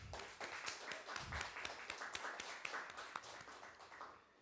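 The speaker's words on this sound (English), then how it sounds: "Let's get some applause going." Scattered, faint clapping from a small audience at a live spoken word poetry showcase in an old jail, uneven claps continuing for a few seconds before thinning out.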